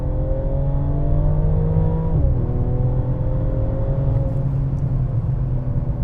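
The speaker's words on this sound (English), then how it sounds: "I actually like the way this engine sounds." A 2021 Mercedes CLS 53 AMG engine pulls hard from inside the cabin in comfort mode, its tone climbing steadily, dropping briefly at a gear change, then rising again in a smooth continuous drone.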